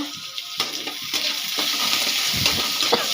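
Onions and curry leaves hit hot oil after mustard seeds have popped, with a sudden loud sizzle that keeps crackling and spitting, with occasional stirring scrapes close by.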